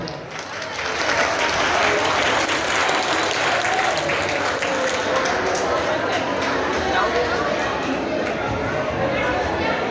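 Loud, sustained applause from a large crowd at a school founding day event, rising quickly and continuing as a dense roar of clapping with voices mixed in.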